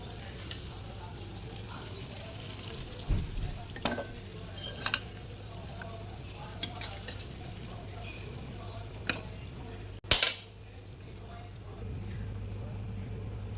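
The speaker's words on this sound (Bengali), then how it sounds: "এবারে আমি রেসিপিটা তুলে নেব একটা পাত্রে নিয়েছি এই পাত্রতে আমি তুলে নেব" Cooked mutton curry being scooped from a pan into a serving bowl, with faint sizzling and soft scraping and clinks of a spoon against metal, then a sharp louder clatter near the end, under a steady low background hum.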